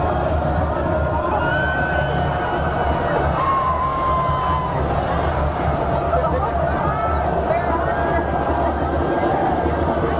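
A high school football crowd at a Notre Dame Academy vs. De Pere game sends up a sustained roar of cheering and babble, with scattered whoops and a public-address voice over the din.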